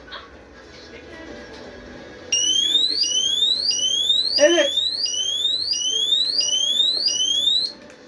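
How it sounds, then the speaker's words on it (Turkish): An electronic alarm system siren, triggered by an open tamper switch during a motion detector test, sweeps upward in rapid repeating whoops, loud and close, with a brief spoken word and a short beep before it starts. "Bir daha açılacak alarm çünkü temper açık."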